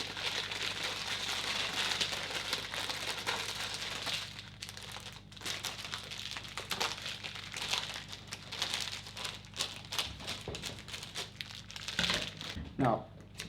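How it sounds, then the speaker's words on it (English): A crinkly cellophane sheet is cut and peeled away from an apricot croquembouche, with steady close crackling and rustling that thins into sparser crinkles and ends in a few sharp rustles. "I'm going to remove now my protective sheet of cellophane paper."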